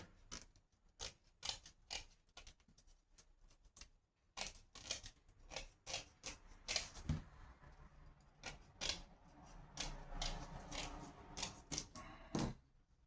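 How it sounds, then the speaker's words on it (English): Scissors snip off the excess length of an X-Jet siphon hose, a series of crisp close cuts and clicks in uneven bursts, mostly alone. "Just cut off the excess here."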